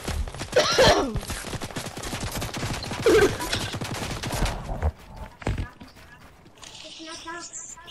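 Rapid gunfire from a video game crackles in dense bursts with loud peaks near the start and middle, mixed under excited talking, then thins out into scattered shots and quieter game sounds.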